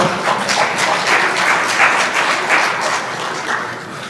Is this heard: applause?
yes